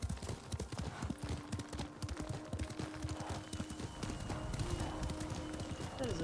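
Horse hooves clip-clop at a steady galloping rhythm in the video game Ghost of Tsushima, close and fairly loud, with a brief whinny and game ambience around it.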